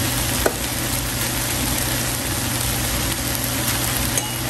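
Freshly cooked rice being fried with boiled Chinese sausage in an iron pan, giving a steady, dense sizzle that holds level for several seconds, with a faint low hum underneath.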